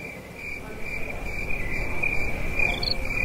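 Crickets chirp in a steady, close, high pulsing trill, a clean insect sound effect repeating evenly with no voices over it.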